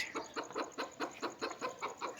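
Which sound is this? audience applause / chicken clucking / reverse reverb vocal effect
chicken clucking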